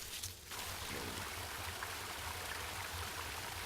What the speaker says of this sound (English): Ah, there's a babbling brook here.